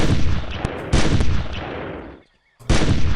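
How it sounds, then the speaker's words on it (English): Gunfire from the 1998 video game Carnivores: loud broadband blasts with a sharp report and sustained decaying tail, one near the start and another at about one second, a short silence, then a final blast. "I'm gonna shoot this guy down."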